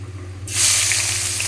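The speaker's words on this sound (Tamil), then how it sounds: "கொஞ்சமாக கருவேப்பிலை போடுறோம் கருவேப்பிலை புரிஞ்ச உடனே" Curry leaves dropped into hot oil in a pan burst into a loud, bright sizzle that holds steady, over a low constant hum.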